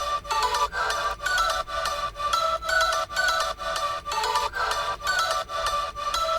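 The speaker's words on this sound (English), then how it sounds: "And then we have this pluck sound here." A synth pluck from an electronic track repeats in a fast, even rhythm of short bright notes forming a looping melodic pattern, steady and prominent with no speech over it.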